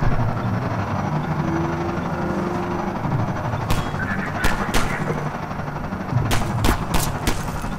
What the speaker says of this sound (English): And they're taking shots at me from below.